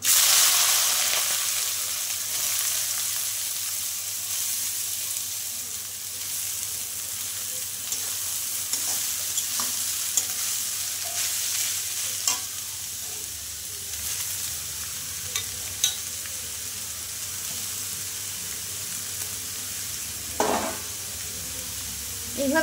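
Chopped banana stem fries in a pan after mustard-seed tempering, giving a steady sizzle over a long stretch, broken by occasional scraping stirs and clinks, with no one talking.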